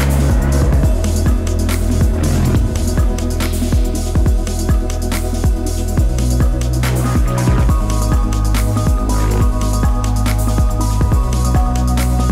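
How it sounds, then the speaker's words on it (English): A car drifts hard at a motorsport event, its tires squealing continuously over a loud, revving engine, with repeated sharp bursts and sweeping pitch changes filling the whole stretch, no talking. "he absolutely boils the tires off of a car"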